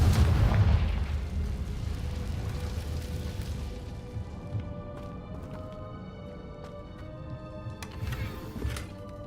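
A Confringo fire-explosion spell in Hogwarts Legacy, a deep booming blast opening loud and close, then rumbling and crackling as it slowly fades under quiet game ambience.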